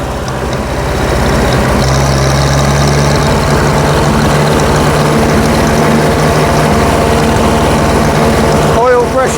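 A Grey Fergie tractor engine idles loud and close, a steady low chugging throb with the exhaust near the microphone, holding an even rhythm until a brief voice cuts in at the very end.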